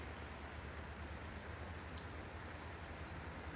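Steady rain falls all around an outdoor pool, heard from beneath an umbrella as a dense, even hiss of drops with no breaks, moderately loud and constant throughout.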